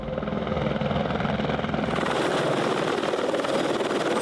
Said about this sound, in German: land jij met de heli?